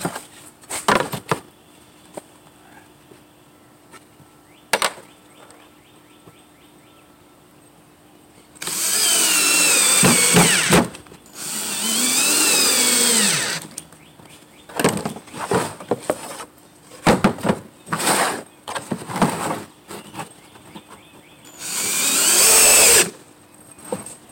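Power drill driving screws into plywood while building a simple rectangular plyo box, heard as several loud, close bursts of whirring, some rising in pitch, separated by short pauses and clattering handling noises.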